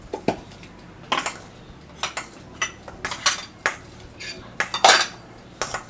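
Cake batter being mixed in a bowl with a spatula, giving a string of close, sharp scraping clinks and taps against the bowl at an uneven rhythm with quiet gaps between.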